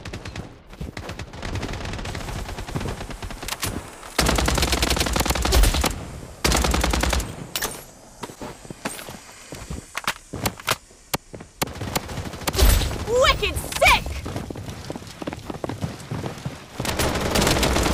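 Rapid automatic gunfire fills a Blood Strike battle-royale match: long sustained bursts and scattered single shots, loud and close, with intermittent distant volleys and brief lulls between them.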